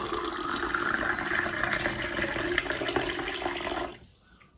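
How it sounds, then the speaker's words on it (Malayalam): Water poured into a lemon vinegar health drink and stirred in, a steady close splashing wash that runs for about four seconds and then cuts off, with no talk. "ഇനി നമുക്ക് വെള്ളം കൂടി ചേർത്ത് നന്നായിട്ടൊന്ന് മിക്സ് ചെയ്തെടുക്കാം"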